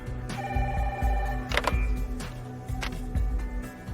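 An old-style telephone bell rings in a dramatic French TV series scene, sounding as repeated close, loud metallic trills over a low background hum.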